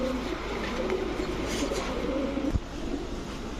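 Racer pigeons coo softly in a low, faint murmur beneath steady background noise, with a brief knock partway through.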